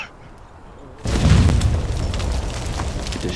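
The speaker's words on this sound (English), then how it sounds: "bomb fell down" A bomb blast in the Conan Exiles video game erupts after a second of quiet, with a heavy boom and a long rumbling roar that stays loud to the end.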